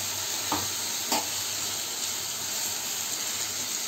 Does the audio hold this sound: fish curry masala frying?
yes